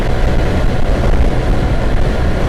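2022 Honda Wave 110i motorcycle engine while riding: a continuous, even hum with rushing wind noise, loud and close, with no voices.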